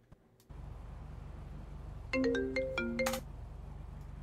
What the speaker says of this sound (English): So if I ring Jay right now, your phone won't go.